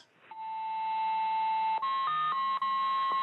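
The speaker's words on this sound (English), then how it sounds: "Here's the one with the cool beeps." A steady electronic tone from a numbers station radio broadcast holds, then shifts through stepped pitches broken by short beeps, clean and continuous with no voices.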